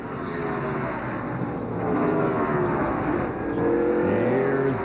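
NASCAR stock cars roar along the backstretch at Michigan during the 1999 Pepsi 400, a dense, continuous engine drone that builds slightly louder, with no voices over it.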